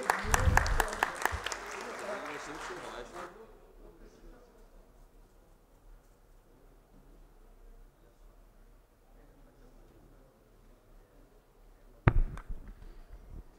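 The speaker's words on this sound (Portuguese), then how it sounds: "Pedir uma salva de palmas" Brief applause in a legislative committee session for a deputy's birthday, a burst of clapping that quickly fades into quiet room tone, with a sharp knock near the end.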